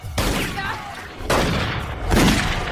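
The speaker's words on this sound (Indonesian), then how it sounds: "Malah Cole juga tewas terkena tembakan, sedangkan Rosie tertembak di bahunya." Gunfire in a film, three loud booming bursts of shots spaced about a second apart, each with a sharp attack and rumbling tail.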